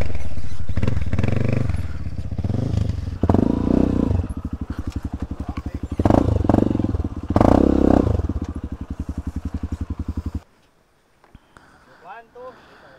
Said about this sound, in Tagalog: Magbubuhat tayo ng motor.